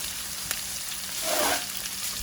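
Garlic salmon simmering on low heat in a pan gives a soft, steady sizzle that swells briefly toward the middle, faint and without voices.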